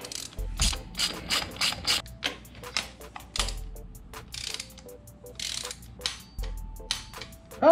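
A wrench ratchets repeatedly while loosening a spark plug on a Honda Fury motorcycle, giving loud, close bursts of rapid clicking with short pauses and occasional metallic knocks.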